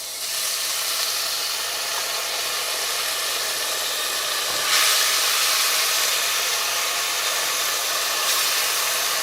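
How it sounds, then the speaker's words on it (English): Loud, steady sizzling and crackling of chicken browning in a hot pan, a continuous bright hiss that swells slightly midway. "Oh yes, that sizzle is everything."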